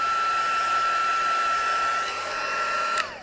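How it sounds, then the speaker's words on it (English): Steady, loud whine and rush of an electric heat gun blowing over damp ink on card, running continuously at close range before switching off with a falling tone at the end. "I'm just going to run the heat gun over that a bit before I keep putting my inks on around the edge."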